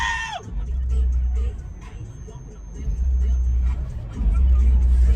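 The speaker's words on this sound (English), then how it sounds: "it looks like we got a party bus driving by behind us" A party bus drives by on the road behind a parked 2021 Mazda MX-5 Miata RF, making a steady low vehicle rumble that swells near the end, with faint crowd noise from the passing bus.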